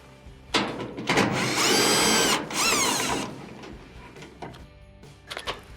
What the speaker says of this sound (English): remove the 2 1/4-inch screws at the bottom.